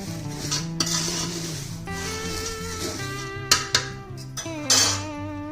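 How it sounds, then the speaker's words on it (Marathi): A chivda mixture is gently tossed in a pan, giving soft stirring rustles and a few sharp metallic clinks of a spoon against the vessel, with a tonal background hum beneath. "हलक्या हाताने आपण मिक्स करून घेऊया"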